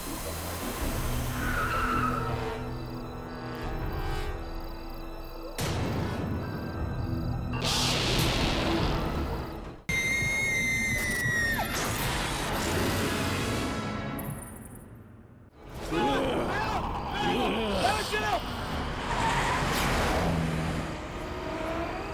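On a road at night in a horror drama, a car brakes hard and skids, with squealing tyres and engine noise in several abrupt, loud bursts broken by sharp cuts, with no talk over them.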